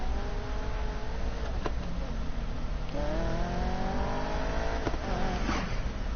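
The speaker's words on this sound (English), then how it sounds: "I don't know if y'all heard that little turbo." Simulated car engine in Need for Speed Payback revving and accelerating with harmonics climbing, broken by a couple of quick shift or turbo blow-off bursts, steady and loud throughout with no talk.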